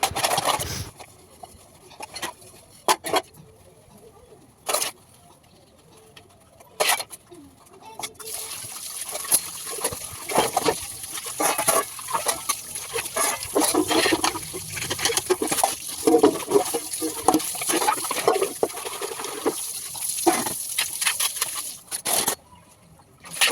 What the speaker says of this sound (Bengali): যে বাসন মাজা কমপ্লিট হয়ে গেলো, স্নান করে নিলাম